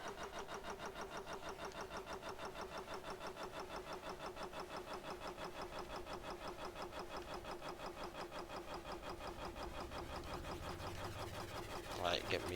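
A vehicle engine runs in the Stormworks video game, a steady pulsing mid-pitched drone that holds evenly for several seconds, with a brief clunk near the end.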